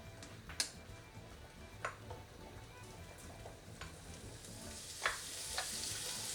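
Pancetta sizzling in a hot pan for carbonara, a steady soft fry with scattered light pops and ticks, fairly quiet and heard alone without talk.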